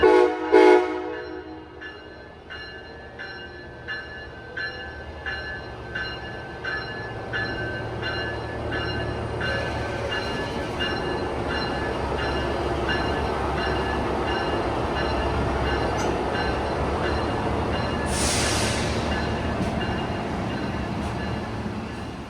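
An Amtrak Lincoln Service train runs at high speed between Chicago and Bloomington-Normal, heard from on board as a steady loud rumble with rhythmic clicking of wheels over rail joints and a distant horn blast near the end.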